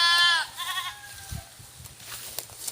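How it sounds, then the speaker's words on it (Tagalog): Pet goats being moved to a new spot let out a loud, close, wavering bleat, then softer bleats and rustling footsteps on the ground. "Lipat natin ang mga alaga nating kambing."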